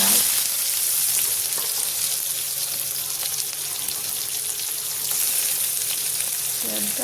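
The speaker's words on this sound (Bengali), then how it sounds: "পেঁয়াজটা হালকা ভেজে আলুটা দিয়ে দিই।" Onion with green chilli frying in oil seasoned with nigella seeds in a pan, a steady loud sizzle with light stirring clatter throughout, no voices.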